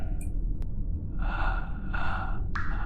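A man breathes close by in the horror game Enigmata, with heavy, raspy breaths swelling twice over a low droning ambience and a sharp click at the start.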